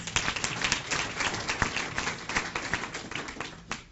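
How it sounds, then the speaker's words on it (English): An audience at a grand opening and ribbon-cutting ceremony for a WorkSource Cobb workforce center gives a round of applause, fairly quiet and somewhat distant, with individual claps pattering unevenly throughout. "Let's give them another round of applause"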